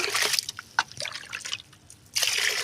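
Clean water poured by the mug for a homemade liquid organic plant fertilizer, a bright splashing pour at start and end with dripping and trickling between, close and alone.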